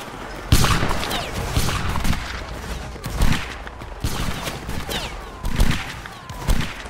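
Musket volleys crackle in a Napoleonic Wars video game battle between Spain and Italy, with several loud, sharp bursts of massed fire spaced a few seconds apart over a continuous background of scattered shots.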